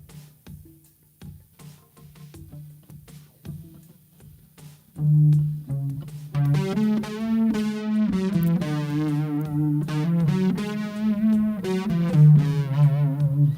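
A low, gritty distorted bass plays sparse plucked notes, then swells into sustained, buzzing, overdriven lines with a loud, thick tone and no talking.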